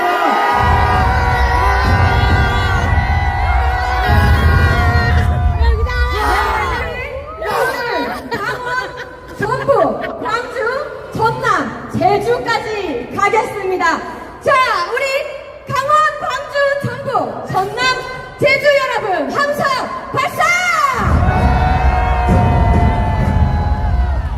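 Party members at a large street rally roar and cheer, a loud crowd swell broken by shouts, chuckles and scattered voices, then rising again into a full collective cheer near the end.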